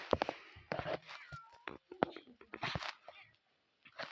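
Cat meowing in a Toca Boca video game, a few short cries mixed among clicks and taps and a voice talking in Ukrainian.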